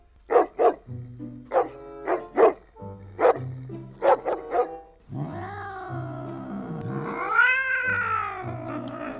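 Minecraft game audio of a dog barking in a quick series of sharp barks, then a drawn-out cat yowl and hiss, loud and close with no talking.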